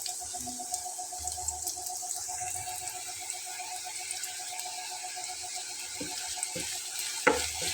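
Onions fry in a pan on a gas stove, a soft, faint sizzle with a low steady hiss and a few small clicks, and no voices.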